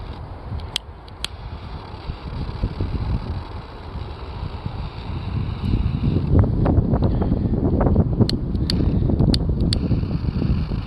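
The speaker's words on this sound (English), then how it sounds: "I hate wind so much, you have no idea. Stop blowing my lighter out." Gusty outdoor wind buffets a microphone with low rumbling and thumping that swells louder toward the end, with a few faint clicks and no talking.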